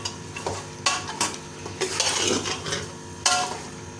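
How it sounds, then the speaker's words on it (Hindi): Green chickpeas and beef mince fry in ghee while a spoon stirs and scrapes the pot. Loud sizzling surges with each of several stirring strokes, and clinks of metal on metal break through. "अच्छे से भून लेंगे।"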